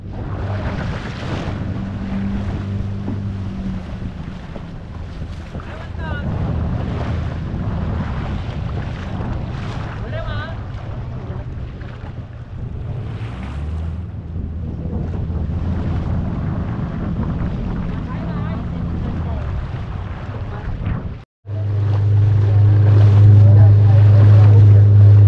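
A boat motoring between two rocks near Devbag lighthouse in Malvan, with a steady engine drone under wind buffeting and surf noise throughout, a brief dropout near the end, then a louder, closer engine hum.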